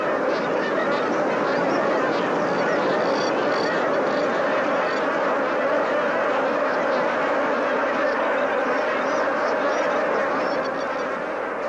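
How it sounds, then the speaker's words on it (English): A large flock of magpie geese honks continuously in the far north wetlands, a dense overlapping chorus of calls filling the air without pause. "The massing of the magpie geese is one of the biological events that marks the turning of the seasons in the far north."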